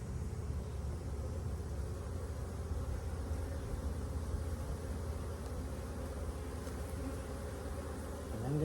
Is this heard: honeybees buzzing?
yes